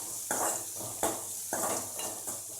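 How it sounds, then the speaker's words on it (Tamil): Chopped onions sautéing in a pan for a coconut, mango and pea sundal, with soft sizzling and several distinct spoon scrapes and stirs in an irregular rhythm, close and fairly quiet. "இப்போ வெங்காயம் வதங்கியாச்சு."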